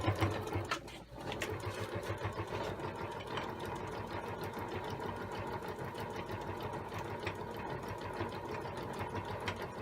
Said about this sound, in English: Let the sewing machine do the work for you.